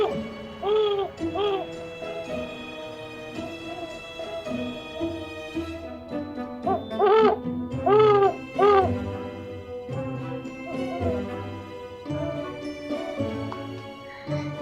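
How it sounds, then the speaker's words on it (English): Great horned owl hooting at night, a run of low, soft hoots in short groups among other sustained tonal sounds, at moderate level. "or even the great horned owl, which sounds like this."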